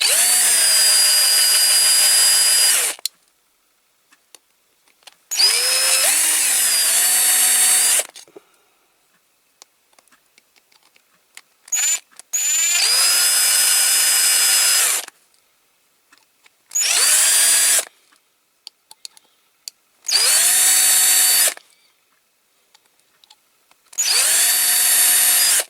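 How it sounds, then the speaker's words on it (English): Power drill boring out a soft rivet on a Corgi Toys Renault 16 Tour de France Paramount film unit die-cast model car, in six loud whirring bursts separated by silences, with brief clicks between them and no talk. "Now we've got this thing here which needs drilling out."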